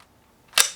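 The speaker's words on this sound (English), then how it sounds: "the thumb is placed over the slide lock to get that counter pressure to automatically slide forward" A handgun slide snaps forward during a dry-fire combat reload, one sharp metallic clack after a brief quiet pause, close and alone.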